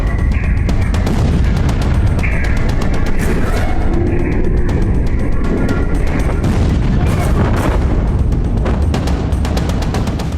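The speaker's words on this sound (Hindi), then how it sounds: "धमाका कितने कैमरों में कैप्चर हुआ, पहले वो देखिए।" Loud, dense rumbling with rapid crackling bursts, like an explosion and its aftermath, sustained throughout with faint voices mixed in.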